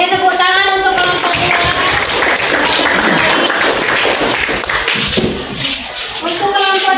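A classroom group claps for group 2 during a teaching performance session at an Islamic university, dense applause lasting several seconds, with talk heard at the start and at the end.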